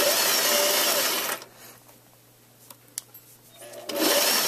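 A sewing machine stitches a sleeve into a knit top at a 5/8 inch seam allowance, running loud and steady, pausing for about two and a half seconds with a few small clicks, then starting up again.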